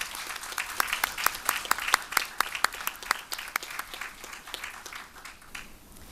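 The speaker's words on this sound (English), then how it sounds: "Audience, let's give Mrs. Stein an applause for all of her 40 years of service." Audience at a middle school speech contest claps for a long-serving staff member: distinct individual claps, loud at first, then thinning and fading toward the end.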